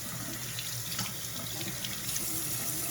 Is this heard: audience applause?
no